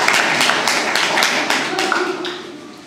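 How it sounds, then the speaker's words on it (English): An audience claps after a speech at a Toastmasters meeting, a dense burst of clapping that holds steady and then thins out toward the end. "Applause, please."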